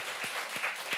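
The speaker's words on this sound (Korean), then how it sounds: "우리 박수 한번 하겠습니다" A congregation gives a short round of applause, a soft, dense patter of many hands with a few sharper individual claps standing out, fairly close and with no talk over it.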